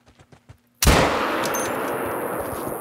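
A single loud 6.5 Creedmoor rifle shot in theHunter: Call of the Wild hunting game, sharp and close, with a long rolling echo that trails off; a few faint taps come just before it.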